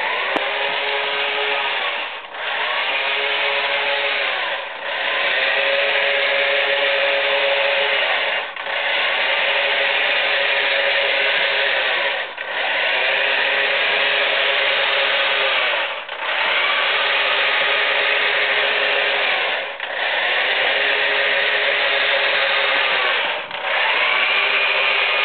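A mecanum-wheel robot carrying an arm drives and moves with a loud, steady motor and gear whir that dips briefly every few seconds as it changes motion, close and alone with no speech.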